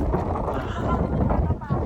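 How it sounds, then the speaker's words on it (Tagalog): Strong, steady wind on Mt. Fuji buffets the microphone with a low roaring rumble throughout, loud and continuous. "Lakas ng hangin, no?"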